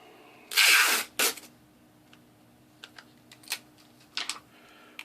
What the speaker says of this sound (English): And put a little tape there.